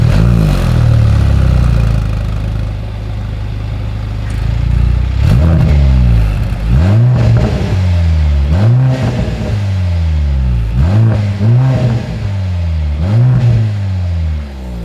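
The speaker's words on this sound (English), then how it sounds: "It's going to be an AMG Sport exhaust, of course, with quad tips." A 2025 Mercedes-AMG GLC 43 with its AMG sport exhaust and quad tips idles loudly, then revs repeatedly in a series of rising and falling blips, close and powerful.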